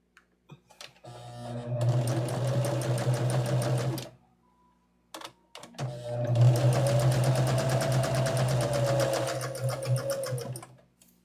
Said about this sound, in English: Take it to your machine and stitch.